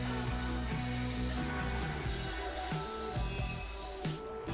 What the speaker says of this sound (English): I'm going to spray it with a bit of oil so that it doesn't stick